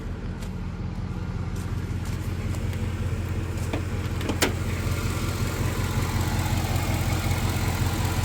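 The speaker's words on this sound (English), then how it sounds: "Let me shut off the motor." Supercharged Ford F-150 with a Whipple supercharger idling, a steady low engine drone that stays even and close, with a brief click near the middle.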